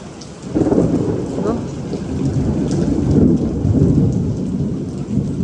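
Heavy rain pours down in Surat with deep rolling thunder rumbling through it, loud and continuous, with no voices.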